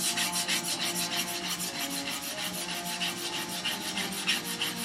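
A steel plane iron is honed by hand on a sharpening stone in rhythmic back-and-forth strokes, a close, dry rasping scrape repeating about twice a second with nothing else heard.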